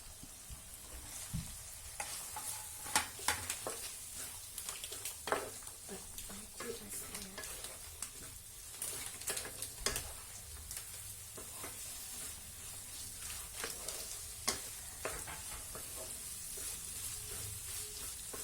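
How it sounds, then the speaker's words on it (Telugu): Potato, carrot, beans and capsicum fry on a tawa for street-style pulao, a steady soft sizzle with frequent spatula scrapes and taps, close and fairly quiet, no voices. "ఇది సాఫ్ట్ అయ్యేదాకా మనం ఫ్రై చేసుకుందాం"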